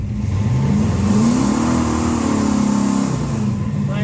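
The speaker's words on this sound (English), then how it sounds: "What does it do wide open throttle?" A car engine at wide open throttle climbs steadily in pitch through a close, loud rev, holds briefly, then eases back as the revs drop, a constant drone throughout with no voices.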